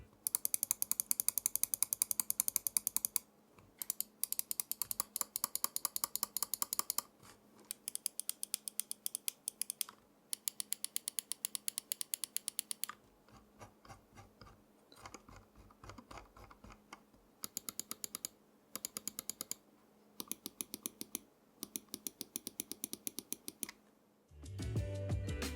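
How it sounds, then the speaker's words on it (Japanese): Crisp mouse button clicks from a Glorious Model O Wireless with Omron mechanical switches come in rapid close bursts separated by pauses, sharp and dry, with a few slower single clicks and no talking. "まずはマウスボタンのクリック音から聞いてみましょう。"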